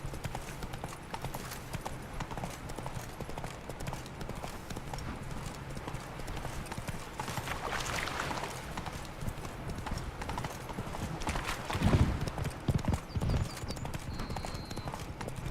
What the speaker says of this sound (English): I like to have the sound of the hooves change depending on what ground you're on.